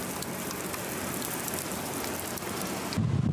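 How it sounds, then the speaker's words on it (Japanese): Hail and sleet fall suddenly in Niigata city, turning the ground white. A dense, steady, hissing patter of ice pellets shifts abruptly to a heavier, lower rumble near the end. "新潟市では突然ひょうやあられが降り出し地面が真っ白に"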